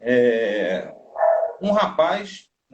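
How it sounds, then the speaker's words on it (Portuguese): A small, noisy female dog barks in a home during a live talk about Umbanda, a few short yapping barks mixed in with someone speaking Portuguese, close and fairly loud. "se vocês ouvirem um cachorrinho latindo aí, é porque minha cachorrinha é meio barulhenta."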